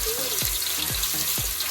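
Ginger frying in a pan with popped mustard seeds, a steady bright sizzle broken by several low thumps from stirring, close up with no voices.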